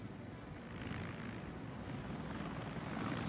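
A Mi-24 helicopter in Arma 3 flies nearby with a continuous rotor and engine drone that holds steady and swells slightly toward the end.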